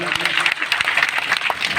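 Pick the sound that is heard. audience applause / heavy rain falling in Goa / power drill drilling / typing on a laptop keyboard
audience applause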